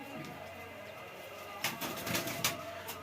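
Pigeons coo softly in the background, with a few louder rustles and flutters near the end under low ambient noise.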